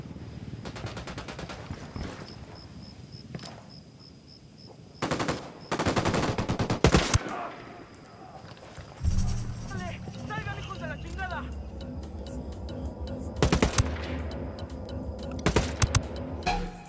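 Gunfire in the Ghost Recon Wildlands video game: several bursts of automatic rifle fire and single cracks over a few seconds, mixed with game effects and radio-style voices talking.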